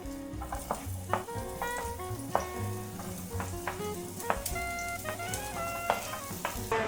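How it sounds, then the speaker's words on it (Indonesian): Garlic and shallots sauté in a pan with a steady sizzle, broken by repeated clinks and scrapes as a utensil stirs against the metal; no voices. "Tumis hingga wangi. Bawang merah, bawang putihnya."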